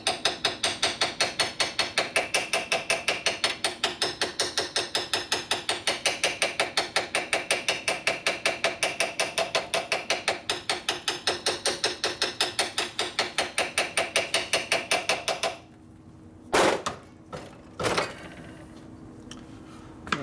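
Rapid, steady metallic hammer taps peen a metal surface during a Harley-Davidson WL flathead engine build for about fifteen seconds, then stop, followed by a couple of isolated knocks.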